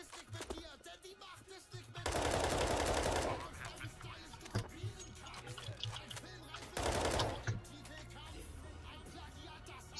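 Counter-Strike gunfire bursts out in two loud rapid automatic volleys, each lasting about a second, between quieter game sounds, with people talking faintly in between.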